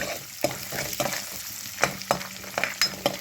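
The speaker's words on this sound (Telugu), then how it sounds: "ఇప్పుడు నేను నానబెట్టుకున్న ఇందాక మనం పులావ్లో వేసుకున్నవే ఇందులో కొన్ని దాచిపెట్టుకుని బఠానీలు వేస్తున్నాను. ఇవి కూడా ఒక్కసారి వేగిపోవాలండి." Soaked green peas frying in a pan make a close, steady sizzle, and a spoon scrapes and clacks against the pan every half second or so.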